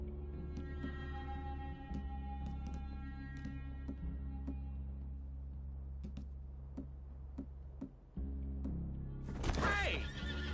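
Horses in Red Dead Redemption 2 near a forest clearing, with several sharp neighs and whinnies over a low steady hum, soft clip-clop and ticking, ending in a louder burst of noise.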